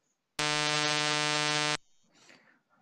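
A harsh, buzzing synthetic pulse-train tone with all frequency components at equal strength sounds steadily for just over a second, then stops abruptly, followed by a brief soft breathy noise.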